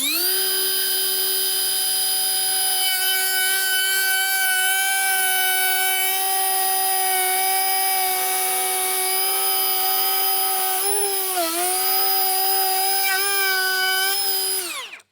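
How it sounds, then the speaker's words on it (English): DeWalt DCW620 plunge router cutting wood along a jig rail, a loud, steady high-pitched motor whine held throughout with a brief dip near the end as it finishes, then cuts out. "I can go ahead and run my router against this rail and get this cut"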